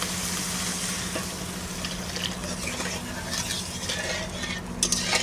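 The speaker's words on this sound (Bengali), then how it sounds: "এবার জল দিয়ে দেবো।" Water is added to a fried, browned spice paste in a wok, giving a steady loud sizzle and bubbling hiss with a few scraping stirs of a spoon, no talking.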